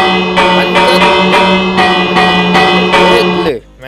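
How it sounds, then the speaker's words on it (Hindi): Minecraft doorbell at a gate, a bright ringing chime struck over and over in a quick even rhythm, loud and close, cutting off abruptly at the end. "ये कौन है जो बार बार गेट पे आके घंटी बजा रहा है"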